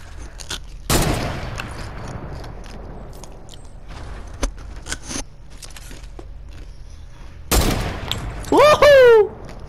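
Sniper rifle shots in a video game, mostly two sharp, loud cracks several seconds apart, with a thinner burst between them and a brief rising whistle after the last shot.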